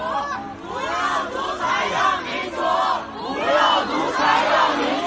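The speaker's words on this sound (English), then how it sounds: "The crowd also chanted, "We don't want COVID tests, we want freedom." Protest crowd chanting together in rhythmic, swelling waves of many voices against COVID testing and demanding freedom, loud and continuous throughout.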